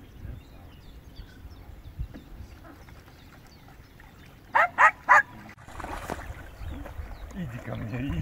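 Several dogs bark in a quick burst of three loud barks near a boat on the water, with faint talk and background noise before and after.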